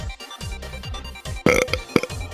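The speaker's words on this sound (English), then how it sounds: "I can only imagine burps." A burp comes out loud and close around the middle, with a shorter second belch just after, set among playful vocal sounds and music-like tones.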